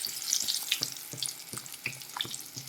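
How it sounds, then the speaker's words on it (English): Scotch eggs fry in hot oil in a pan as they are stirred around, a steady close sizzle with soft scraping knocks from the mixing at irregular intervals, no talk. "You're going to be mixing it around until all of it is golden brown."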